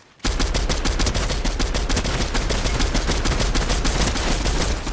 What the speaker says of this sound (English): Someone else shoots from down here.